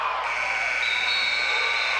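A steady electronic buzzer sounds at the end of the first half of a high school girls' basketball game between Phoebus and Hampton, a continuous tone holding for about two seconds over the gym's ambience.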